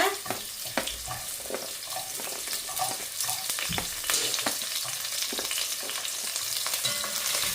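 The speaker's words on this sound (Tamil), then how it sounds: "ஒவ்வொரு வெங்காயத்தை முதல்ல போடுறேன் ஒனியனை" Sliced onions frying in a pan for Sri Lankan devilled chicken, a loud continuous sizzle close to the pan, broken by scattered pops and soft clatters of onion pieces being dropped in.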